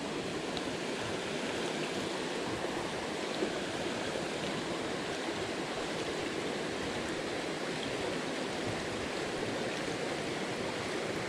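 A narrow mountain stream runs through a jungle gorge in a headwater forest, its steady rushing water close and continuous with no voices.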